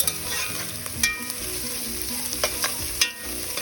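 Bacon frying in a pan as its fat renders, a steady close sizzle with occasional sharp pops and stirring clicks, no voices.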